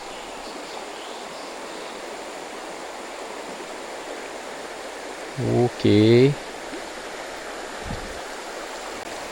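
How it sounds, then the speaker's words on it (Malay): Fast-flowing river water rushing steadily where a fishing lure is being tested, a constant broad roar close by, with a short spoken word and a brief voice partway through. "Ni air laju ni kan, air beraruh ni."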